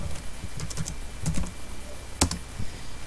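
Someone types on a computer keyboard while entering Java code: a quick run of close, crisp key clicks with uneven rhythm and one louder keystroke near the end.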